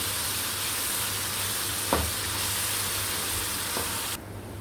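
Garlic and ginger paste frying with chicken masala in a pan, a steady hissing sizzle with a couple of brief stirring scrapes before the sound drops away near the end.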